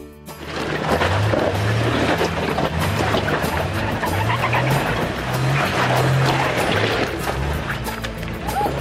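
A 1994 Jeep Wrangler YJ with a 7-inch lift, lockers and 4.88 gears drives off-road, its engine churning loudly and steadily with surging revs and splashing, rumbling texture close by throughout, with no voices.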